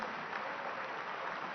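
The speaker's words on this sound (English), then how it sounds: "Let's applaud them because they ran a fantastic election." An audience at an ANC thank-you event gives a standing ovation after an election, a dense, steady wash of clapping from many hands.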